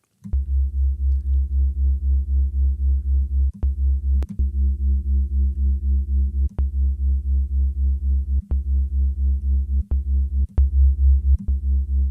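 A low synthesizer sine tone with distortion added hums steadily with a rhythmic wobble, its harmonics thickened, broken by occasional sharp clicks, with no voices.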